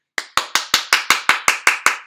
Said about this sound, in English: Now I'm going to clap them together to make a loud sound.